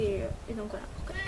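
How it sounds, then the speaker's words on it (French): A pet cat meows briefly near the start, a short tonal cry heard beneath a person talking casually in French. "désolé c'est mon chat"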